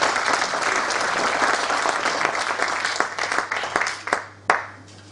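An audience at a commemoration event for the Battle of Florina claps in warm, dense applause that holds steady, then thins into scattered claps and fades near the end.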